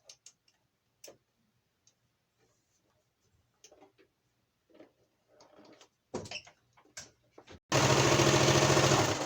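A sewing machine stitches a face mask made from a home air-conditioner filter, starting with scattered light ticks and clicks, then breaking into a loud, fast continuous whir of stitching near the end.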